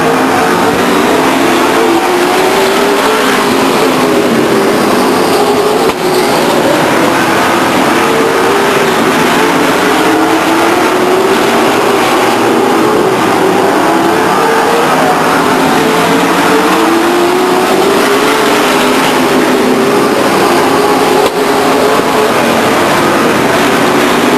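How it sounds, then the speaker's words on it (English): Race cars lap Stockton 99 Speedway in a 1999 race, their engines a loud, continuous roar that swells and dips in pitch as the pack circles the oval, with no voices. "And so Welch will complete lap number 18 as your leader, followed by Henry, Philpott, Kirby, and Henry"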